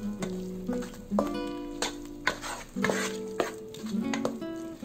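Metal spoon stirring and scraping in a pan of egg and potato kurma after coriander powder is fried in, with repeated clanks against the pan and a soft sizzle underneath, close and fairly loud, no talk.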